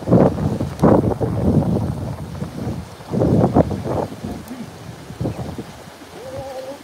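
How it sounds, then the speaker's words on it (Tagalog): Strong wind rumbles against the microphone in uneven gusts at a fishing spot where a net is cast, with brief bird-like coos near the end. "Oh, lakas ng hangin ito"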